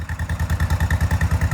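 A 1956 two-cylinder 420 tractor engine runs close by with a rhythmic, evenly paced low chugging putter, loud and steady with no talk.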